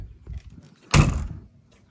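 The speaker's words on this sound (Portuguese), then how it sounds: "Tem aquela outra porta lá aqui." The door of a Peterbilt truck is shut with a single solid thud near the middle, close and loud, followed by a brief rattle and then quiet.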